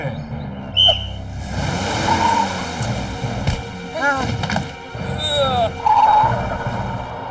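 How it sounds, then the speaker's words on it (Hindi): A whistle is blown in a Hindi cartoon, giving a few short, shrill tonal blasts that rise and fall, mixed with cartoon sound effects and lively voices. "आओ सीटी बजा के।"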